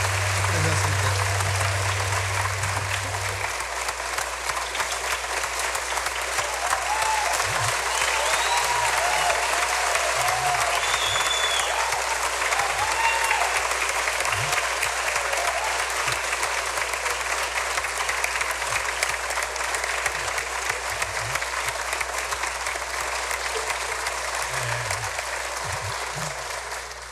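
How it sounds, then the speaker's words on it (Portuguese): Audience applause at a Christmas cantata in a church. Sustained, even clapping from a large crowd carries on unbroken throughout, with faint voices underneath. "Nossas palmas"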